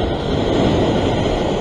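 Sea waves surge and break against the shore at a fishing spot, a loud, continuous roar of surf with wind noise and no talking.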